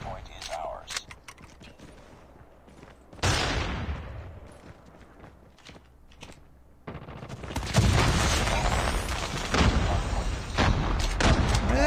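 Bursts of MX9 submachine gun fire in Call of Duty Mobile, with dense rapid shots and clattering mechanical weapon handling, loud and close, while a voice talks over the action.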